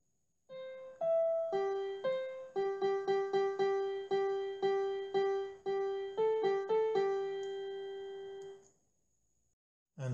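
A single synthetic-sounding melody line plays alone, a series of clear, evenly detached high notes moving in steps, then stops, leaving silence.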